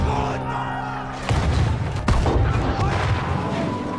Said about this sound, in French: Une mitrailleuse qui frappe un char.